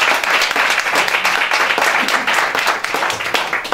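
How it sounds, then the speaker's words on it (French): A crowd at the Miss Prestige Nouvelle Aquitaine beauty pageant applauds a 21-year-old contestant with loud, close, continuous clapping that stays dense and even across the whole stretch. "vous pouvez l'applaudir."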